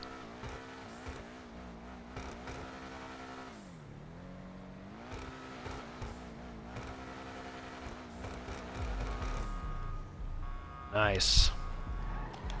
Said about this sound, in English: Definitely sounds like a V8, V12, high horsepower luxury car.